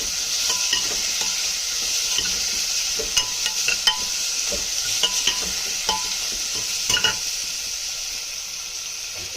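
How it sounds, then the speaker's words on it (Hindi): Cluster beans and apple gourd sizzling in a pan over a low flame, a steady close-up fry with repeated scraping and clinking of a spoon as the vegetables are stirred. "शामिल करने के बाद हम इसको अच्छे से इसमें भूनेंगे और इसका फ्लेम जो है आपको स्लो पे रखना है।"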